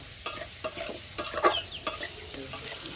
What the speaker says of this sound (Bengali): দিয়ে আলুটাকে ভেজে নেব